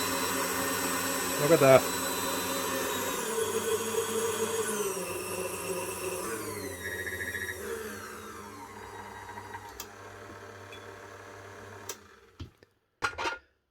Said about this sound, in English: One Kitchenaid Classic. Up and running again.